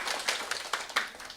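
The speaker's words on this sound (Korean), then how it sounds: "박수 쳐주세요" Scattered hand claps from an audience in a lecture hall, a handful of quick, uneven claps that are faint and somewhat distant, with no talking over them.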